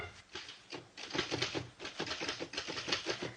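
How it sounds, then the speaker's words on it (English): A typewriter tapping out a letter in a large, comfortable room, with rapid irregular keystrokes that come in bursts, close and fairly quiet, with no talking. "is seated at a desk, typing"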